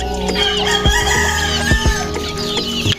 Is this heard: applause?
no